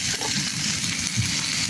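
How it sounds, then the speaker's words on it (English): Food sizzles steadily in a frying pan over an open fire during a Pompeii-style cooking demonstration, a soft, continuous crackling hiss with no talk. "So that's beginning to sizzle."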